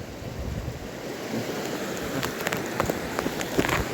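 Sea waves wash in at the shore as a continuous broad roar of surf and churning water, close and steady, with wind buffeting the microphone and a few brighter splashes toward the end.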